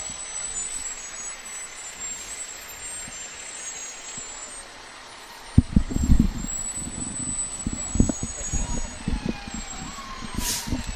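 A 1989 Mack fire truck of the Noroton Heights Fire Department rolling in a Memorial Day parade: steady outdoor hum, then a sharp loud burst of engine rumble and air-brake hiss continuing close by, with faint voices around.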